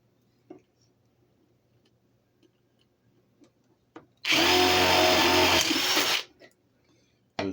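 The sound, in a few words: drilling holes in wood pieces for porch swing planter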